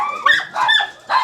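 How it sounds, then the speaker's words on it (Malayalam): A German Shepherd dog barks sharply three times in quick succession, close and loud, with short gaps between each bark. "അതിൻ്റെ അകത്തൊരു പട്ടിയുണ്ട് കേട്ടോ, കിടന്ന് ബഹളം വയ്ക്കുന്നുണ്ട്"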